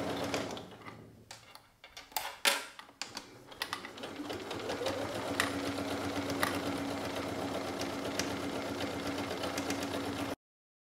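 A Ambition 635 sewing machine stitches a bag's handle lining to the main fabric, starting with a few clunks and stuttering stitches, then settling into a loud, steady mechanical whirr that runs until an abrupt stop.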